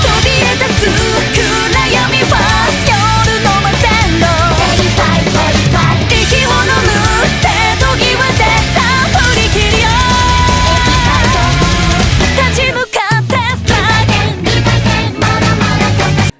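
Dense, loud modern rock music plays throughout with pounding rapid double bass drumming, pausing abruptly near the end before crashing back in.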